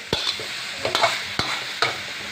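A spatula scrapes and tosses pork and vegetables in a hot pan for Thai sweet-and-sour pork, with about five sharp, evenly spaced stirring strokes over a soft sizzle and no talking.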